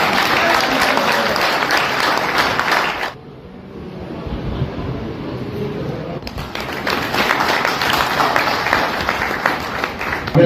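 Loud, dense applause from a large audience fills the clip, dipping briefly to a quieter murmur midway before surging back.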